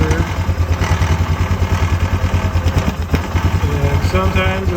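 A Polaris 500 engine idles roughly with a steady but uneven pulsing chug, loud and close, holding a constant low throb throughout.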